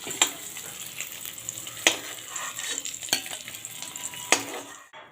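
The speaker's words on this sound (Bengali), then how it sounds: "ওইদিকে আমার মশলাটা করতে করতে ডিমগুলো ভাজা হয়ে গেল।" Eggs fry in hot oil in a pan, a steady soft sizzle broken by a few sharp metallic scrapes and stirs of a utensil against the pan, with no talking.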